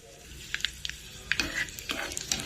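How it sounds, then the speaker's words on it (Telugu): Red chillies fry in hot oil for a tempering, crackling with sharp sizzling pops and bursts over a soft background hiss, close and fairly loud, with no talking. "ఇప్పుడు దీన్ని మనం కొంచెం ఆయిల్ వేసి పోపు వేసుకుందాం."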